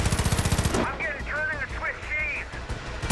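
Gunfire in the video game Far Cry 5 during a showdown with John Seed, a fast rattling burst of automatic shots at the start, then quieter scattered pops under swooping whines.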